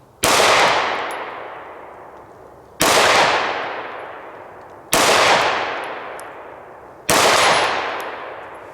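Four sharp pistol shots ring out with steel targets clanging at distance, evenly spaced about two seconds apart, each impact decaying in a long metallic ring.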